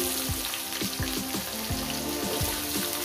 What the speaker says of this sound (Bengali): কয়েক সেকেন্ড ভেজে নেব একটু